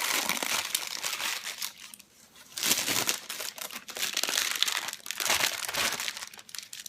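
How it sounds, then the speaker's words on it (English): Parchment paper is peeled away from a freshly unmolded block of cold-process soap, giving close, crinkly crackling in uneven bursts with a brief lull partway through and no talking. "I then go ahead and just peel back the parchment paper"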